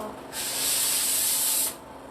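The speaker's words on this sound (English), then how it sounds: "Just easily take a sanding pad or a sanding block, whatever you have." A steady, hissing scrape of a hand sanding block rubbing a wooden cabinet lasts about a second and a half, fairly close, then stops.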